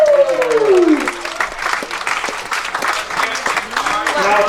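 Wedding guests applaud through a steady stretch of clapping, with a voice speaking over the start and scattered talk mixed in beneath the crowd noise.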